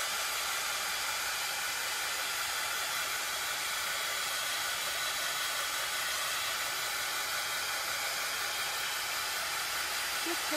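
A hair dryer runs steadily on a DIY craft butterfly, a continuous close, loud airy whoosh holding even for the whole stretch.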